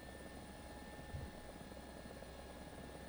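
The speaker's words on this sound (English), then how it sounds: "I believe there was a second helicopter around here somewhere." A Ka-50 attack helicopter in War Thunder drones in a constant, even rotor and engine whine, held steady at moderate level with a brief low thump partway through.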